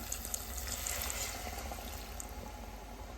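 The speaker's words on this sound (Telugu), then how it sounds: "దీంట్లోకి కొద్దిగా వాటర్ అయితే యాడ్ చేసుకుంటున్నాను" Water runs steadily into a pan of stuffed brinjal curry in a soft, continuous trickle, fairly quiet and close, with no voices.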